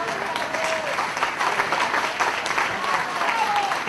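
Audience of educators applauding at a lecture, a steady dense wash of clapping throughout with a faint voice or two surfacing briefly beneath it.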